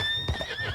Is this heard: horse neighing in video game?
yes